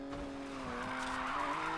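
A car drifts through a drift zone in the PC racing game Need for Speed Payback, its tires squealing in a sustained high whine over a soft engine hum, fairly quiet and with no one speaking.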